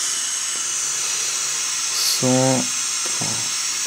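Steady, close FM radio static hisses from a Xiaomi Mi4i phone's radio app, loud and unbroken throughout, with a brief tone and a few short voice fragments breaking through as the tuning moves.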